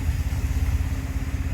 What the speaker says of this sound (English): it's a 4-cylinder, diesel obviously.